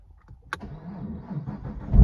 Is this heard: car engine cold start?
yes